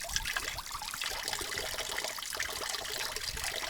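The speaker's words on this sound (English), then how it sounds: "It's a fountain." Water trickling and splashing from a fountain in a village among the vineyards of Wissembourg, a steady close liquid patter with no talk.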